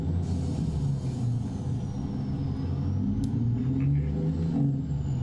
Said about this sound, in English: Why am I using the Jake brake?